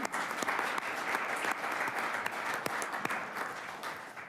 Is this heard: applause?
yes